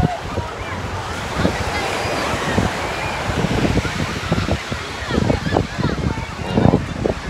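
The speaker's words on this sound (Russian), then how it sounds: "Атлантический океан." Steady rush of Atlantic Ocean surf on a beach with wind buffeting the microphone, waves washing in continuously, faint voices mixed in.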